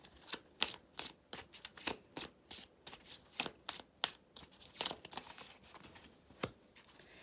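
Oracle cards drawn and shuffled from a deck, a quiet, close run of soft papery flicks and snaps in an uneven rhythm.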